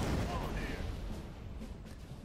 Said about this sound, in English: Everyone fucking fire on him.